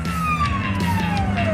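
A police car siren winds down in a single long, falling wail over a steady low engine and road rumble, close and loud.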